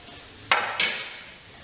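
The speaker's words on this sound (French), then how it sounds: "Mes carottes, je les mets dans la poêle à frire." Carrots dropped into a hot frying pan hiss up in two quick sizzling bursts, each fading into a softer crackle, close and alone.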